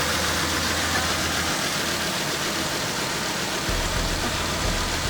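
A car engine idles steadily at an auction, with a slight misfire roughening the low, continuous rumble throughout.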